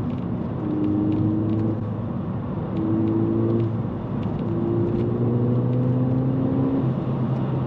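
A Ford Fiesta ST200 with a three-inch exhaust drones steadily while driving, its pitch rising and falling through several gear changes, close and fairly loud.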